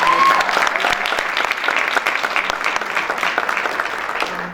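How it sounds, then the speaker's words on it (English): Audience at a publication launch for an anti-racism essay competition breaks into applause, a full, dense round of clapping that stays strong before tapering slightly at the end. "Another one round of applause for Utsile."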